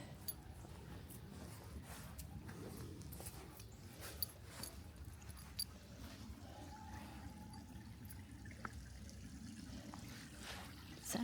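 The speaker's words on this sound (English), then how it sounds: "This creek is flowing a little bit." Creek water trickles over a rock on a hiking trail near old plantation ruins, a faint, steady babble that continues throughout with a few small knocks.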